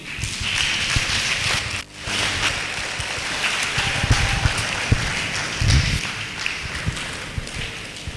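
Audience applause at a symposium fills the hall as a steady wash of clapping, with a brief dip partway through and a few louder bursts, sustained throughout without speech.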